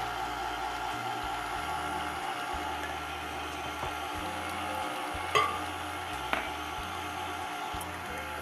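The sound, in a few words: mixing cake batter with flour and milk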